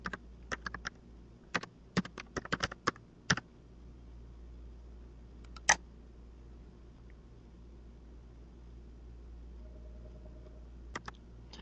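Short bursts of clicking keys on a computer keyboard as a username and password are typed, quick taps in clusters with pauses between, quiet and close in an otherwise still room.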